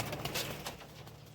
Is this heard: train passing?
no